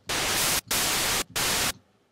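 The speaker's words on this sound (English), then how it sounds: "I've got some white noise. I might just filter it a little bit." Three bursts of bright, hissing white noise from a synthesizer, filtered, each about half a second long with short silent gaps between, loud and steady, then quiet.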